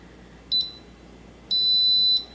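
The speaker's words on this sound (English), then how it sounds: "You get a beep to tell you that you've made contact and something is going to happen." A GUGTTR elliptical's console gives two electronic beeps as buttons are pressed, first a short blip and then a longer steady tone, clear over a quiet room.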